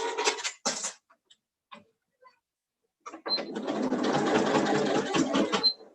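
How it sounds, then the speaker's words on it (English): A home sewing machine stitches fabric for a table runner: a few short bursts first, then a long steady whirring run of stitching in the second half, loud and close with no talk. "so I sewed a little bit too far, but what I can do is back stitch"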